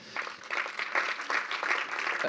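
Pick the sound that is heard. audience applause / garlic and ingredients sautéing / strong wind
audience applause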